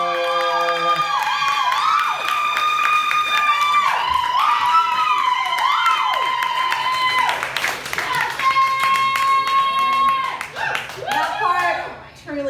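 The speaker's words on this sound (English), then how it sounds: "Just the preliminary applause is really all that I need to be happy with what I'm doing here." A comedy club audience greets a comedian with sustained clapping and cheering, loud and steady for most of the span before fading near the end, with whooping voices mixed in.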